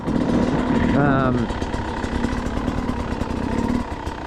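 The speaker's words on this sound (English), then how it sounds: "you can hear the bike, little double blip" A motorcycle engine on a skills practice area gives a quick double blip of the throttle near the start, rising and falling twice, then settles into a steady, fairly loud idle running throughout.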